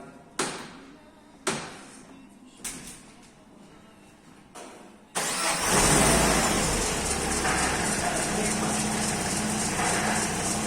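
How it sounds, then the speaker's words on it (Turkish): A car with a faulty power steering pump gives a few sharp taps, then its engine starts and runs steadily, loud and close, with a fine rapid ticking in the idle. "direksiyon pompasında bir sıkıntı olduğu için çalıştığında böyle tıkır tıkır bir ses veriyor"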